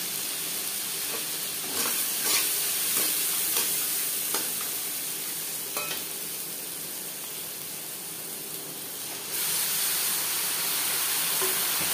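Steady frying sizzle from a fish head and turmeric being stirred in a hot pan, with scattered scraping clicks of the spatula and a louder burst of hiss near the end; no voices.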